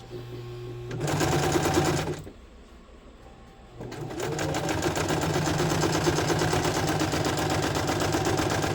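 A sewing machine stitches a cloth menstrual pad in fast, steady, close mechanical bursts, pausing briefly before running again, while a pigeon coos faintly in the background.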